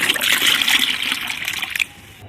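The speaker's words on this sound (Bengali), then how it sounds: "এইখানে আবার কিছুটা জল আমি দিয়ে দেবো" Water pours in a steady splashing stream onto plant fertilizer for nearly two seconds, then cuts off abruptly, leaving a faint trickle.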